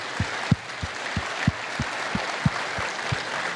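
A church congregation gives the Lord a hand clap, broad sustained applause with low thumps, likely a drum or stomping, landing at a regular rhythm roughly every third of a second underneath.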